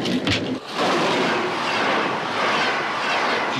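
Train running on rails, a loud steady rumbling roar of wheels and carriage noise heard close from inside, continuous after a brief disturbance at the start.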